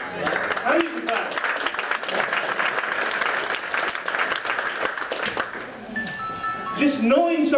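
An audience at a talk breaks into applause, a steady crowd clatter of clapping that thins toward the end as voices and a few tonal sounds rise.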